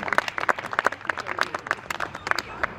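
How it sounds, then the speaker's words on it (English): Audience members at a housing groundbreaking ceremony clap in response to the speaker: sharp, fairly sparse individual hand claps from a modest crowd, irregular and close-sounding, with no voices over them. "Somebody ought to clap their hands and say,"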